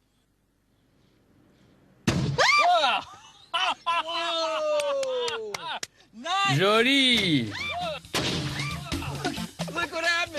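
A sharp, loud bang from a homemade cannon, then excited shouting and cheering from several people close by.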